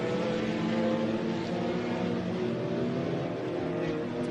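Vintage race cars including BMWs, an Alfa Romeo GTV and a 1972 Datsun 510 circulating on the Sebring track, a loud continuous engine roar with overlapping drones from several cars, no talk.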